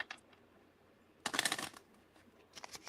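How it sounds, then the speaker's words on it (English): A deck of playing cards is riffle-shuffled close by, a quick burst of rapid flutter followed by softer card handling, in a quiet room. "Ooh, you're a good shuffler."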